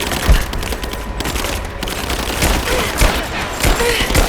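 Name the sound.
gunfire from enemies in the video game Rise of the Tomb Raider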